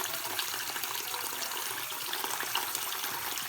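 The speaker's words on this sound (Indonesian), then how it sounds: "Kemudian isikan air hingga ketan putih terendam semuanya." Water runs steadily into a container of glutinous rice to soak it, a continuous close splashing and hissing pour with no talk.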